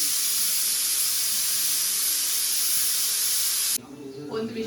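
Pressure cooker whistle on a gas stove cooking chicken donne biryani, a loud sustained steam hiss that cuts off abruptly, followed by quieter room sound with a voice.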